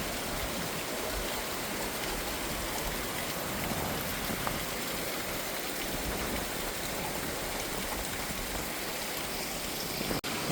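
Floodwater around a flooded house in Laos, heard as a steady, even rush of flowing water, like a stream, lasting throughout at a constant moderate level with no voices.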